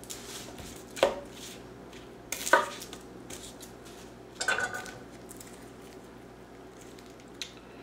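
An onion being chopped with a chef's knife on a cutting board: a few sparse, uneven knife strikes, close and crisp, separated by quiet gaps over a low background hum.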